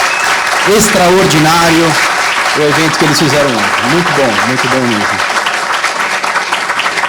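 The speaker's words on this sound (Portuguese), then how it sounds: "Eu queria quebrar o protocolo, pedir uma salva de palmas" Applause at a Brazilian retail industry forum, a broad crowd clapping throughout while someone speaks over it into a microphone.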